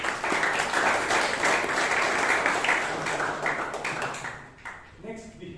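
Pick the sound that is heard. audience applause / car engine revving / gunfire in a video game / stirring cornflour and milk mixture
audience applause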